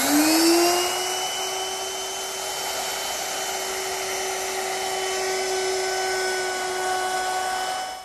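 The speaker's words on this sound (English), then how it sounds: "Now I'm going to round over the bottom edge of my top with a 1/4 inch rounding over bit." A router with a 1/4 inch roundover bit shapes the bottom edge of a coffee tabletop, giving a loud, steady high-pitched whine that holds for the whole stretch.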